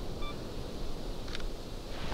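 A Sony A7R III camera's two-second self-timer gives a single faint, brief electronic beep at the start, followed about a second later by a short shutter burst, all under steady outdoor wind noise.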